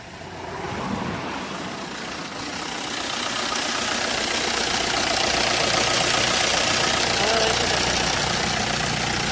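A 2008 Maruti Swift diesel car idles close by after a new ECM was fitted, its steady clattering rumble building slightly and then holding level, with faint voices in the background.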